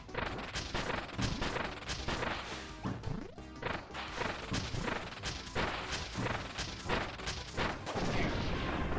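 Cannon shots in Kirby's Return to Dream Land, a rapid series of loud, punchy impacts and thwacks repeating over game music and effects, busy and close throughout.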